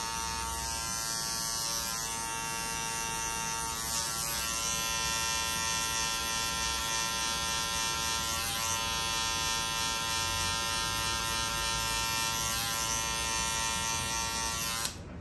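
An electric hair clipper buzzes steadily and close up while cutting a mid fade, its tone shifting slightly as it is lifted upward through the hair for about fifteen seconds, with no talking.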